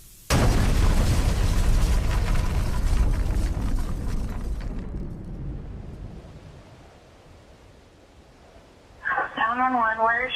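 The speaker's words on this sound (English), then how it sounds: "the propane found an undetermined ignition source and exploded" A propane tank at a store explodes in a sudden loud blast that rolls into a long, fading rumble over several seconds, followed by a voice speaking near the end.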